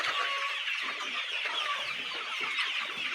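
Farm chickens recovering from illness cluck and chatter in a steady, busy chorus nearby, the clucking continuing without pause and with no voices heard.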